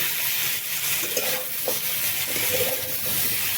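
Turmeric and salt stirred in a pan while cooking a moringa dish, a soft scraping stir over a faint background hiss and gentle sizzle, with a few brief clinks of the utensil.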